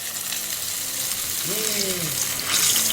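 Food fries in hot oil with a constant loud bubbling hiss, briefly crossed by a short squeaky tonal sound midway, the sizzle swelling brighter near the end.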